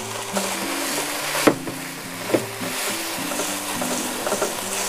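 Chopped leek and grated carrot stirred and fried in a pan, a steady sizzle with occasional sharper knocks and scrapes of the utensil against the pan, close and continuous.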